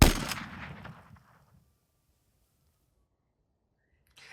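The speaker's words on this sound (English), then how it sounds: "you hear a gunshot" A single sharp gunshot in a tense scene strikes loud and close at the start, then rings out and decays into near silence for several seconds.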